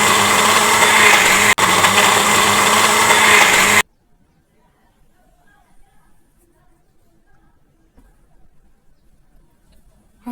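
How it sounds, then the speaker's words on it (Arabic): Electric blender running on tomato peels with a little water, a loud steady whirring drone for about four seconds that cuts off abruptly, leaving near silence with faint low rustles afterward. "هسيب الخلاط عليهم لحد ما يدوب القشر بتاعي خالص"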